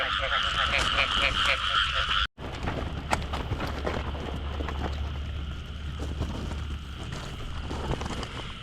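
Loud chorus of frogs croaking in the rain, rapid pulsing calls packed closely together at first, then continuing more sparsely under wind buffeting and rustling, with occasional voices.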